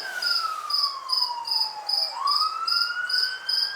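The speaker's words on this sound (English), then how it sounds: "Yeah, we have a fire station here in Milham, so we hear the sirens quite a lot." A fire station siren from Milham wails nearby, a long sweeping tone falling then rising, with insects chirping in steady pulses over it.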